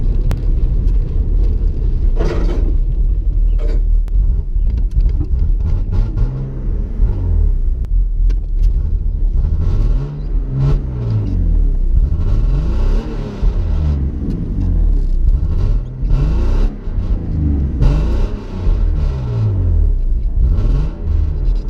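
A BMW E36 car engine running rough and cutting throttle, a loud, heavy rumble with repeated rising and falling engine tones, heard close with no talk.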